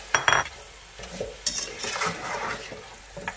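Beef pieces being added and sautéed in a pot while cooking yakhni pulao, with stirring scrapes, a few metal clinks and a soft sizzle close by, and no talking.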